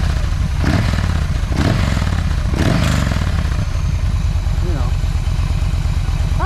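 A 2014 Yamaha V Star 1300 Deluxe motorcycle idles close by with a loud, steady, lumpy V-twin rumble and a few quick throttle blips, while someone talks briefly over it.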